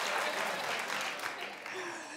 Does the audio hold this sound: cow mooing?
no